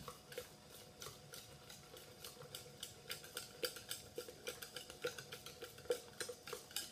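A spoon stirs oats, egg, sweetener and baking powder in a bowl with a steady run of soft, rhythmic clinks and scrapes, faint and close, with no talking.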